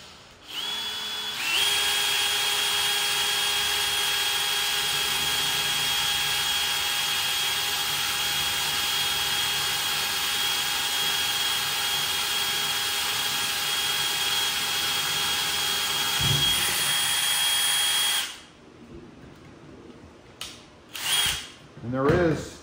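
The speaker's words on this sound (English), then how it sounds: "Okay, I've got the hole drilled." A power drill bores a hole in the body of a Toyota Tacoma, a loud steady high whine held for about seventeen seconds, then stopping, followed by a few handling knocks.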